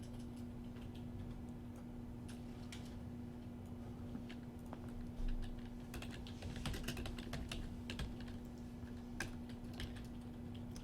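Keys clatter in a quick, uneven stream as text is typed on a computer keyboard, close and fairly quiet over a low steady hum.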